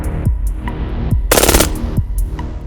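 Several gunshots fired in close succession into NIJ Level IIIA soft body armor on a test range, loud sharp reports with one heavy burst in the middle, stacked closely on an earlier .44 contact shot.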